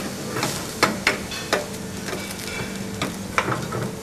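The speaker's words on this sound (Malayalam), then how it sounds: "അതിപ്പോൾ നന്നായി തിളച്ചുകൊണ്ടിരിക്കുകയാണ്." A pot of mutton stew for an Onam meal simmers steadily, with a soft, continuous bubbling hiss broken by a handful of sharp pops and clicks. No voices are heard.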